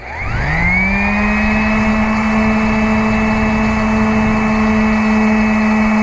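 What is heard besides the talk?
random orbital sander sanding a wooden edge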